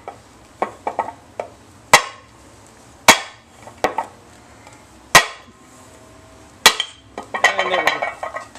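A flat-bladed screwdriver tapped with a hammer to knock out the front main seal of an LS Vortec engine, heard as sharp metallic strikes spaced a second or so apart, close and clear, with some clattering at the end.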